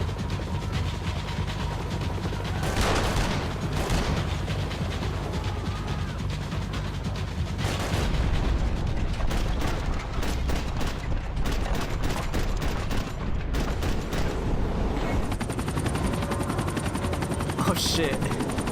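Gunfire from Max Payne 3 crackles in bursts across a loud, dense game soundscape, with sharp repeated shots clustered near the middle and end over a constant low rumble and a voice speaking.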